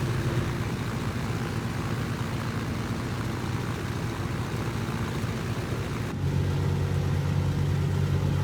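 A Grumman J2F Duck biplane's engine runs up steadily in Microsoft Flight Simulator, a continuous droning rumble that rises in pitch and loudness near the end, with no talk over it.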